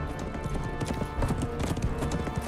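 Rapid hoofbeats of a galloping horse, a fast rhythmic drumming over a busy background, moderately close.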